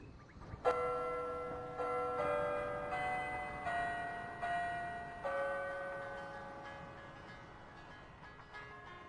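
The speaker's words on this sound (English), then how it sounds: "I heard that bell. That was a LeChuck sounding bell." Tolling bell in The Curse of Monkey Island video game, a series of about six evenly spaced resonant strikes, each ringing out with a long fading hum, clear and alone.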